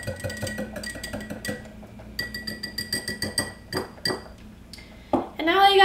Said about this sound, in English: One last little stir here.